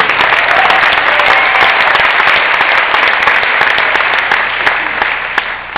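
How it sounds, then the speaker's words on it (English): Large conference audience at a 2008 Zurvita event breaking into sustained, loud applause, a dense wash of many hands clapping continuously from start to finish with scattered whoops and no clear break. "Big round of applause for my wife, Stacy."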